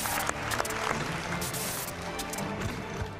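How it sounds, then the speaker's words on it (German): Sustained applause from a studio audience at a German TV show, a dense, steady wash of clapping with scattered sharper claps running throughout. "Großen Applaus nochmal"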